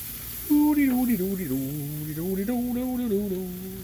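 Sausages sizzle in a pan over an open fire, a steady soft hiss running under a voice that talks almost throughout.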